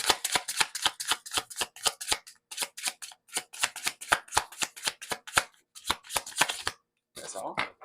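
Oracle cards being shuffled by hand in a long run of quick, crisp riffling bursts with a steady rhythm, close up, ending in a short break and a softer rustle.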